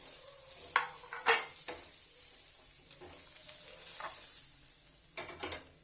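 Paneer roll filling made with vegetables roasts and fries in a pan, a steady close sizzle broken by a few sharp clinks and scrapes of a spoon stirring against the metal.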